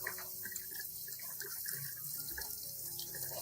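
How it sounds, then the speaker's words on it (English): Tap water runs steadily into a kitchen sink while leafy greens are rinsed beneath it, a close, continuous splashing hiss with small shifting gurgles. "After 10 minutes, rinse the greens under running water."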